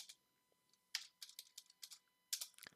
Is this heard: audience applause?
no